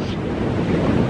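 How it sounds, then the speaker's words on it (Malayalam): Cold wind blowing at the hilltop viewpoint of Palkulamedu in Idukki, a loud, dense rush buffeting the microphone steadily for the whole moment, with no talk. "തണുത്ത കാറ്റ്."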